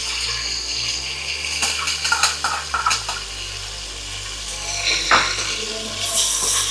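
Ginger garlic paste frying in hot oil in a pan for hotel-style chicken curry, stirred by hand: a low sizzle under scattered scrapes and knocks of the utensil against the pan, with a brief burst of clatter near the end.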